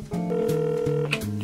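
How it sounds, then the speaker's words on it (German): A telephone number is dialed, giving a sequence of distinct electronic keypad tones that step from one pitch to the next in quick succession, clear and close, with no voices. "Ich werde mal Howard schnell anrufen von deinem Telefon."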